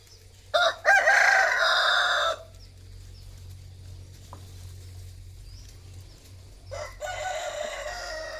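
Chickens and a rooster, at least two birds, with a loud crow about two seconds long near the start and a second crow late on, over a steady low hum and faint clucking.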